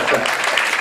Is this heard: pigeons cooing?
no